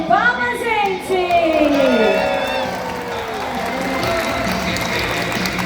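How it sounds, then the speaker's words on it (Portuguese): Convention crowd at Anime Friends 2025 applauding and cheering, with whoops and rising voices mixed into a broad wash of clapping, fairly loud and sustained. "Quero pedir uma salva de palmas"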